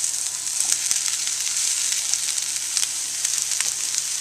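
Onions, peppers and mushrooms frying in a pan, a loud, even sizzle with frequent sharp crackles and pops throughout, no voices.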